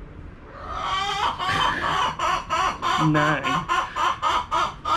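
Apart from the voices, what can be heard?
chickens clucking and squawking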